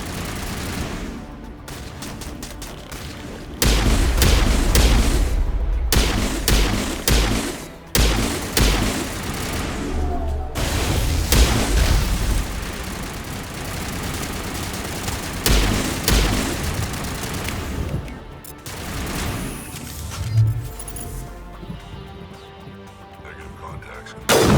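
Artillery fire and heavy gunfire in the Mass Effect video game on Virmire, with repeated loud booming bursts and rattling volleys over a few seconds, then quieter stretches of rumbling battle ambience.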